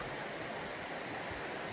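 River water flowing steadily along a trail in the Scottish Highlands, a constant broadband rush with no breaks, close and moderately loud, with nothing else heard.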